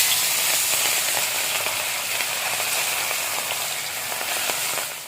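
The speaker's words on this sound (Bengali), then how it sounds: "তেলটা গরম হয়ে গেছে, এবার মাছগুলোকে ভেজে নেব।" Pieces of katla fish fry in hot oil in a wok with a loud, continuous close-up sizzle that holds steady from start to finish and fades slightly at the end.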